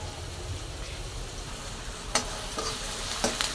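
Onion sautéed and stirred in a pan while cooking toor dal with potato, a dense steady sizzle with a few crisp spatula scrapes near the end, close and free of voices.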